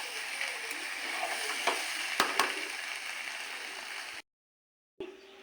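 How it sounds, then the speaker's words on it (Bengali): Water poured into a pan of fried spice masala meets hot oil with a loud, continuous sizzle and a few sharp clinks, then cuts off abruptly before a brief return of hiss. "এবার আমি জল দিয়ে দেবো।"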